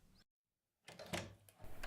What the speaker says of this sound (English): Can you get the door, dear?